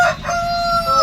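A rooster crows once, loud and close, in a drawn-out call lasting about a second. The bird is one of a set of red, orange and white fighting cocks kept for Sankranti cockfights.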